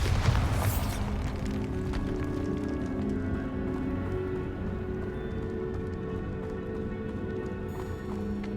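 A Bombarda spell blast in Hogwarts Legacy sets off a single booming burst at the start, then a long, steady rumbling tail that slowly fades beneath the game's ambient sound.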